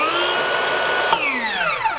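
A Metabo HPT 36-volt 7-1/4-inch cordless circular saw runs loud and steady at high speed, then shifts into its high-torque mode partway through, and the whine drops sharply in pitch as the motor slows.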